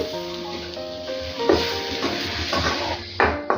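Mashed boiled potatoes are stirred into a frying pan for a leftover-roti snack, with a spoon scraping and knocking against the pan over a steady soft sizzle.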